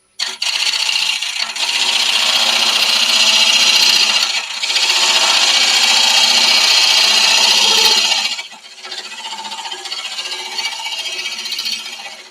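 Wood turning on a lathe with a cupped carbide cutter angled at 45 degrees: a loud, continuous scraping rasp as the cutter meets the spinning wood, easing briefly and then carrying on more quietly.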